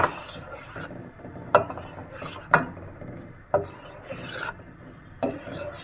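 Date palm jaggery stirred into rice pudding in a pot, a spoon rasping and scraping with a few sharp knocks against the sides, close and unhurried.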